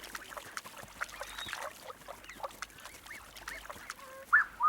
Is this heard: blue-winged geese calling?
yes